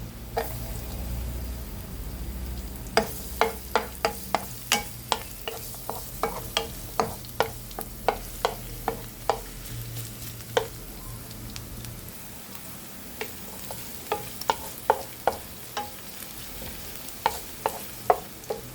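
Garlic frying in a pan of corned beef, a continuous oily sizzle under frequent sharp clicks and scrapes of a spatula stirring against the pan, fairly close.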